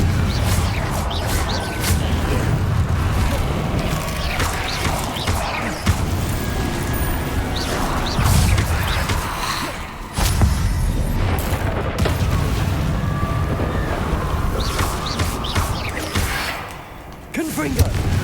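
Confringo fire-spell explosions in the video game Hogwarts Legacy, dense repeated booming blasts with game effects running continuously and loudly, with a brief lull near the middle and another toward the end, while a voice talks over the action.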